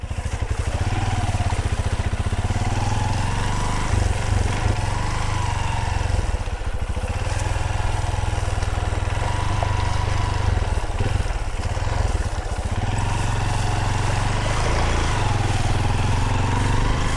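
A boat motor runs steadily and loudly throughout, a continuous low engine drone with strong low-end rumble and no pauses, heard alone without talk, aboard a mother boat.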